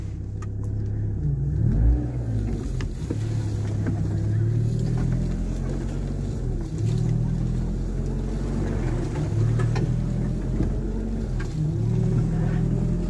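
An Eagle Talon GSX with all-wheel drive climbs off-road uphill through briars, its engine droning loudly and steadily close by with shifting revs and a low rumble throughout.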